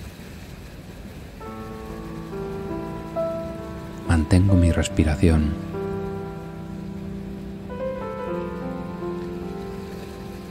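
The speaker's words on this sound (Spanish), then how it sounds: "con este sonido de las olas" Gentle ocean waves wash softly and continuously beneath sustained, calming music pads in a guided breathing meditation, while a calm voice speaks briefly midway.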